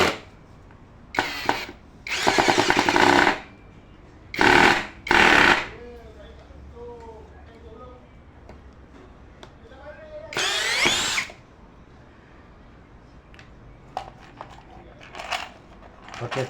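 A power drill drives a 2.5-inch screw into wood in several loud whirring bursts of a second or so, separated by pauses, with someone talking in between.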